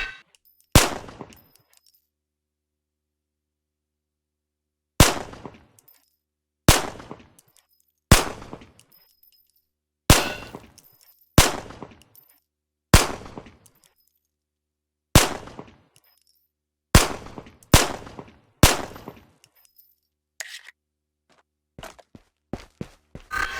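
Sharp pistol shots in the Ghosts of Tabor VR shooting range, fired in quick bursts of two or three with short pauses and a longer gap early on, each crack loud and close with a brief decaying tail.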